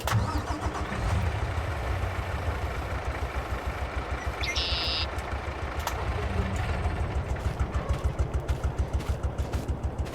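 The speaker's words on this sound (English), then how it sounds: "that has a unique idle sound that I forgot about" An old tractor engine in Farming Simulator 22 cranks, catches and settles into a rough, steady idle with rapid regular low pulses, loud and close, with a short tone in the middle.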